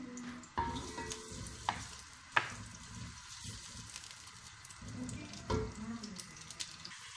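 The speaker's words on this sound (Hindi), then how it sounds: "प्याज को हम अच्छी तरह फ्राई कर लेंगे।" Onions frying in a pan for a Swati chicken korma, a steady soft sizzle with occasional clinks and stirring sounds, close and moderately loud with no talking.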